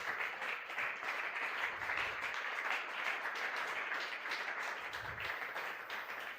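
A church congregation at a Sunday worship and thanksgiving service applauding, a steady wash of many hands clapping at moderate volume with no break.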